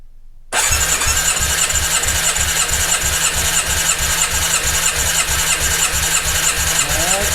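A Yamaha XJ600S motorcycle engine turns over on the starter at full throttle during a compression test, starting abruptly and continuing as a steady, rhythmic cranking pulse with a whining starter tone, close and loud.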